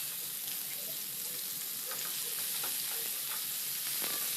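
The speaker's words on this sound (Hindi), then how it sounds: "तो सबसे पहले मैं सीख कबाब डाल रही हूँ और इसे जो है ना पहले हम ढक के बनाएंगे।" Seekh kebabs sizzle in a covered pan over low to medium flame, giving a steady, close frying hiss with faint crackles throughout and no voices.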